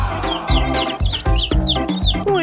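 Hen and chicks cluck loudly and close in a rapid repeated series of short calls, about six bursts in quick succession with no talk over them.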